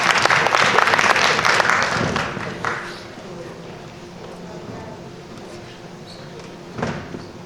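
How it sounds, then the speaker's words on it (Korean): Audience applause in a hall at a student academic presentation event, a burst of clapping that fades after about three seconds into quiet room noise with a brief final flurry. "큰 박수 부탁드립니다."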